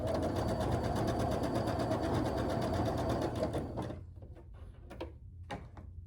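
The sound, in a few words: sewing machine stitching quilt block pieces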